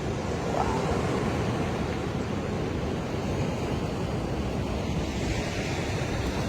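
Ocean waves breaking at Secret Beach in Bali at sunrise, a steady broad roar of surf with wind rushing across the microphone, continuous and fairly loud with no voices.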